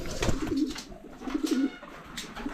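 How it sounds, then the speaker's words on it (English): Pigeons cooing at a dairy, soft repeated low coos close by over a rough, noisy background with no speech. "we're gonna look at the pigeons real quick"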